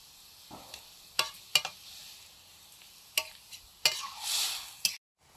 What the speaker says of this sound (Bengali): আলুগুলো একটু ভেঙে দিচ্ছি খুন্তি দিয়ে।